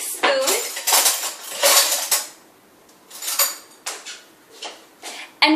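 Metal cutlery rattling and clattering as someone rummages through it for a big spoon, loud close bursts of jangling that come in uneven clusters with brief quieter gaps between them.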